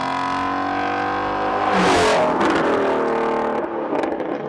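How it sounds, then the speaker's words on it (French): A 2024 Ford Mustang Dark Horse engine revs loudly and close by, its pitch climbing through a rising sweep before a rough burst of exhaust noise, then settling, with no talking. "il monte à 8500 RPM et j'ai pas besoin de vous dire que le son de ce moteur-là est complètement"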